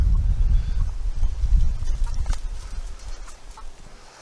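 A flock of backyard chickens in hot Deep South Texas weather, old hens and nearly grown young birds, clucking faintly under a low, uneven rumble.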